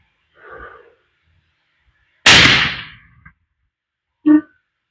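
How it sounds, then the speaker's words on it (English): A single rifle shot from a .270 WSM firing Winchester Renegade long-range ammunition at a paper target, one loud, sharp crack with a short decaying tail, framed by brief breaths or murmurs before and a quick voice after. "We're going to shoot the top right corner of the right-hand target."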